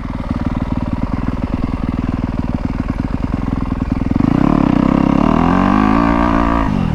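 A Yamaha YZ250F dirt bike runs on a trail, its engine chugging in rapid rhythmic pulses close by before revving up louder and holding a higher, steadier pitch.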